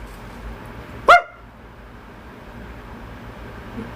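A single short dog bark, sharp and fairly close, stands out once against a quiet indoor background.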